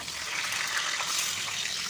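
Water poured into a pan of boiled egg curry, a steady splashing gush lasting about two seconds, close and fairly quiet with no talking.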